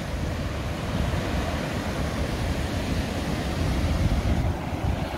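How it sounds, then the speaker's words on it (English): Rushing river water pours over the top of a waterfall on the Sand River, making a steady, dense roar with wind buffeting the microphone, close and loud throughout with no voices. "right on the top, right on top of the falls"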